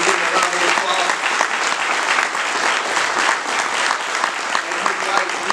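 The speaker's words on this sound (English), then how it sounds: "Can we give him a round of applause?" Loud, sustained applause from an audience at a university basketball coach's introductory press conference, dense and continuous clapping filling the room with no clear speech over it.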